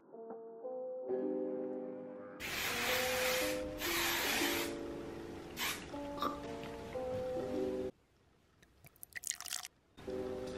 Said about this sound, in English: I spray my hair super light.